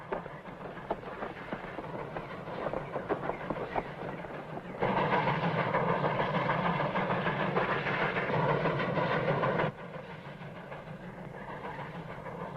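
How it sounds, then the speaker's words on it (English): A steam train rumbles along the rails with steady clattering and hissing, swelling louder in the middle as it passes close, then easing off. "Smokestack's rolling that train."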